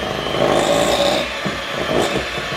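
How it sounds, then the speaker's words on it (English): An electric mixer runs steadily on low speed, beating carrot cake batter in a bowl, a close continuous whirring hum with a faint scraping texture, alone without talk. "And I've got my mixer on low."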